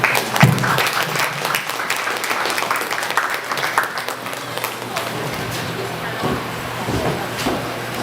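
Audience applause fills a hall at an athletic club awards evening in Burnley: a full, steady wash of many hands clapping nearby, thinning slightly toward the end.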